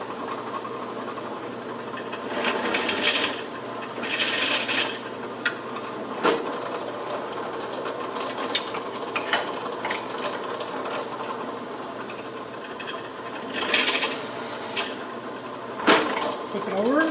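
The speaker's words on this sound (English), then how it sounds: "We will now use a countersink." A countersink bit deburring freshly drilled holes in metal for a DIY gong stand, giving a steady close grinding whir with intermittent scraping accents, under low speech.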